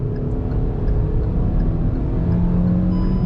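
Hyundai Grand i10 Nios 2023 facelift engine pulling hard in first gear toward 5500 RPM, a steady loud interior drone with road rumble throughout, no voices.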